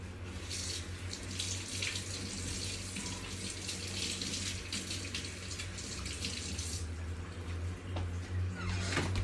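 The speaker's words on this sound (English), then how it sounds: "Let me wash my hand over here." Kitchen tap runs steadily while hands are washed under it, a continuous close splashing rush of water filling the whole stretch.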